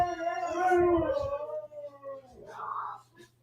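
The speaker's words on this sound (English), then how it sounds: "I had dogs going crazy. They're still going crazy." Dogs howl loudly in a drawn-out, wavering cry, followed by more yelping and agitated barking, with people talking at the same time.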